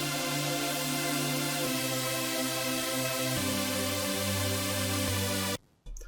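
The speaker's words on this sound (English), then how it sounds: "a preset which is just basically a saw wave, but this one is even more detuned" Buzzy, bright detuned saw-wave synth chords sustain without pause, shifting to new chords every second or two, thick and slightly wavering from detuning, then cut off abruptly.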